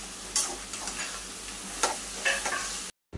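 Pea lentil dumplings dropped into half a cup of water in a hot cooking pan: a continuous close sizzle with a few soft knocks and splashes, ending in a sudden silence.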